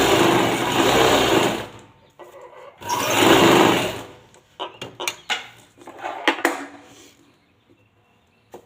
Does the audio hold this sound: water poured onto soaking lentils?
no